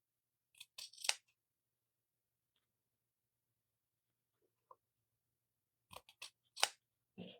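Scissors snipping through ribbon pieces from Dollar Tree for a craft project, a short cluster of crisp close cuts, a long quiet gap, then another few quick snips.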